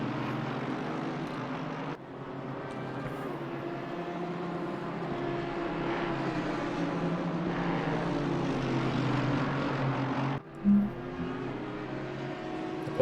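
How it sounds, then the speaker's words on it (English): Steady engine drone from a motorbike passing near a sim-racing broadcast, rising and holding for about ten seconds before cutting off, with a brief thump near the end. "Apologies if you just got an ear for the motorbike."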